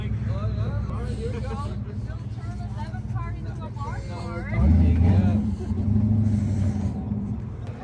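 A Fox body car's engine warms up with a steady low rumble and a louder surge partway through, while people talk over it throughout.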